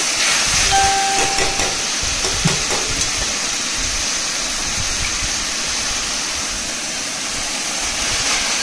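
Jackfruit pieces hit hot spice masala for a jackfruit curry, giving a loud, steady steam-like hiss and sizzle that holds evenly throughout, close and continuous.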